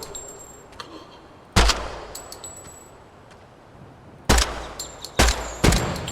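Rifle gunfire during a weapons test, a few loud, sharp single shots spaced irregularly with metallic pings and quiet gaps between them.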